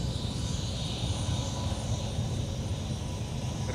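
An airplane taking off from the runway at Minneapolis–St. Paul airport, a loud, continuous engine roar with a broad rumble that holds steady throughout.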